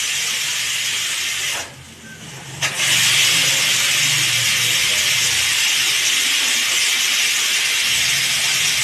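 Steady loud hiss of steam escaping a pressure cooker whistle while rice cooks, broken by a short dip partway through before the hissing resumes at full strength and holds to the end.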